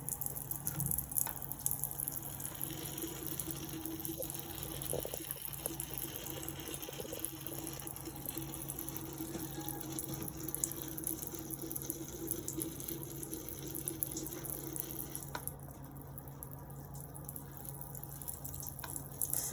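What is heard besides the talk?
water running from tap during surgical handwashing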